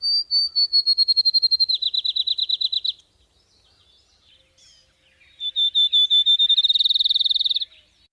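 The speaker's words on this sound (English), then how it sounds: "these beautiful, clear, loud whistles that get faster, which makes it sound like a ping pong ball" Two songs of a field sparrow, each a series of clear, loud whistles that speed up into a rapid trill, separated by a pause.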